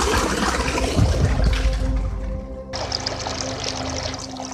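Amirtha karaisal, a liquid farm solution, pours steadily into flowing irrigation water, a continuous close gushing splash that shifts in tone partway through, with no talking.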